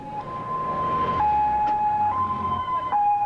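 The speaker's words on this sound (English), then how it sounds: "And so the ambulances make their deliveries" An ambulance siren wails in a steady two-tone alternation, fairly close and loud over a low rumble of traffic and crowd noise.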